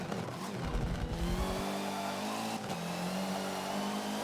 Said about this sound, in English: Oh, I braked so hard there.